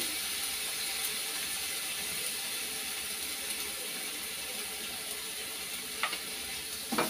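Spice paste with turmeric and salt fries in oil in a pan, a faint, steady sizzle running throughout with a few light scraping taps of a spoon toward the end, no talk.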